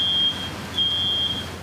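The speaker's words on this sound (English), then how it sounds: "the silence punctuated by sound of smoke alarms." Smoke alarms chirp in hurricane-wrecked homes on a Florida barrier island, a thin high steady tone sounding in two stretches over a quiet outdoor hush.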